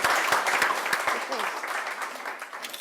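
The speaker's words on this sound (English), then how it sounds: "can we have a big round of applause for our fantastic panellists?" Audience applause for conference panellists at a content marketing and storytelling panel, a dense burst of many clapping hands that fills the room and slowly thins out over a few seconds.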